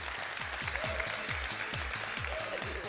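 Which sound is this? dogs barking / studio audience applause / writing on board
studio audience applause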